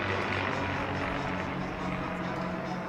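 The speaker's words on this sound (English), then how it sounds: "a couple of single-engine fighters that are on display at the American Airpower Museum" Single-engine warbird fighters such as a P-51D and P-40 pass overhead at the Bethpage Air Show at Jones Beach, their propeller engines making a loud, steady roar that fills the whole stretch.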